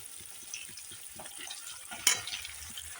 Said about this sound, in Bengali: এখন হালকা ভেজে দেব সবগুলো আমি উল্টিয়ে দিলাম তাড়াতাড়ি যাতে ভাজা হয়ে যায়